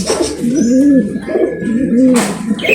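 Pigeons coo repeatedly inside a fully enclosed loft, their low rolling calls rising and falling close by in steady overlapping phrases, with a few faint chirps and soft rustling between them.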